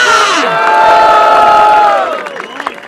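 At a rap battle event, a crowd roars and cheers to welcome a Brazilian rapper, with loud sustained shouts and whoops that swell and then fade into scattered calls.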